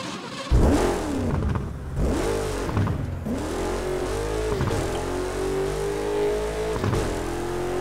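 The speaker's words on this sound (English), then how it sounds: "Hold the accelerator to fire up the engine." A car engine in the Burnout Paradise video game fires up abruptly, then revs repeatedly in rising and falling sweeps before settling into a steady, loud drone.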